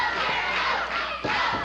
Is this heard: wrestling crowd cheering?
yes